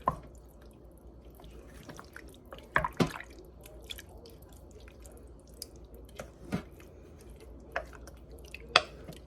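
Cheesy broccoli chicken soup is stirred in a crockpot, making quiet wet squishes and drips with a few sharp spoon clicks against the pot; no one speaks.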